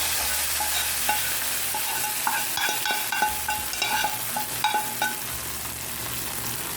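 Hot tempering sizzles as it is poured into chicken haleem and stirred in, with spoon scrapes and knocks against the pot over a steady frying hiss.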